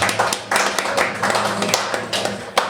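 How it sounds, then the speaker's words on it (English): Applause from a live podcast event audience, a burst of clapping hands with sharp uneven claps, close and fairly loud, thinning out after a couple of seconds. "Give yourselves a round of applause."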